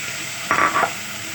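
Onion sautéing in a hot pan while cooking sopas: one short burst of sizzling and stirring rises from a quiet background and fades again within a fraction of a second, with no talk.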